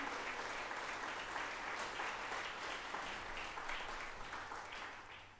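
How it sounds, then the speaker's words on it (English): Steady applause from an assembly audience at a metropolitan partnership forum, a fairly quiet but continuous patter of many hands with a faint electronic tone in the background. "can we give them another round of applause?"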